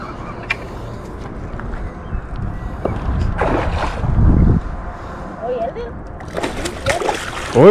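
A pike thrashes and splashes at the surface as it is hauled out of the water during a fishing trip, with a burst of churning water in the middle of the clip and voices and boat sounds around it.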